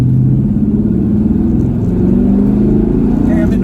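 A 1970 El Camino with a turbo 400 transmission and Gear Vendors overdrive accelerates at wide open throttle, a loud, deep, steady engine roar with rising rumble heard from inside the car.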